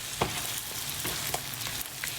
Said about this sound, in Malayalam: നല്ലപോലെ ഇങ്ങനെ ഇളക്കിക്കൊണ്ടിരിക്കുക.